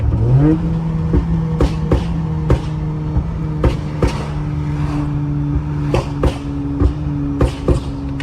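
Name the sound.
car exhaust popping, catless headers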